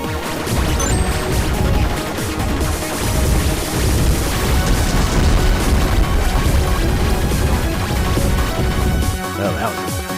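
A panic bomb goes off in the Ghost Blade HD shooter game, a continuous wall of crashing booms and blasts layered over the game's loud music and effects throughout.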